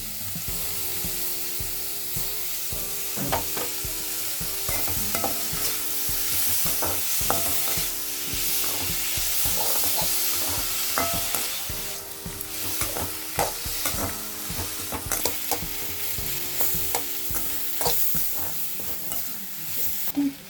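Onions and tomatoes sauté in a pan for tomato mint chutney, a steady sizzle broken by repeated scraping and stirring of the spoon, close and continuous.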